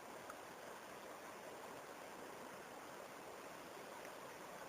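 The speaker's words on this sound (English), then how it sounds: "That means that there's running water up here." Running water from a small freshwater stream near a rock, a steady broadband rushing hiss that holds constant throughout, faint and with no other sounds.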